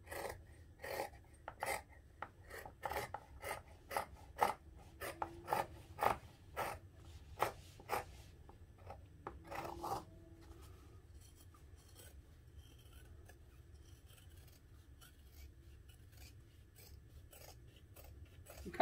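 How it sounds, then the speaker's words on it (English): Scissors snip through the fabric seam allowance of a holiday armadillo stocking, trimming close around the toe and heel: a quick series of crisp, close cuts for about ten seconds, then quieter, sparser snips and rustling of fabric. "I'll trim the seam allowance on the lining as well."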